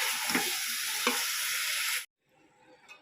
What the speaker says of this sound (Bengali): এক হাতে ক্যামেরা আর এক হাতে খুন্তি অসুবিধা হচ্ছে কষিয়ে নিই ভালো করে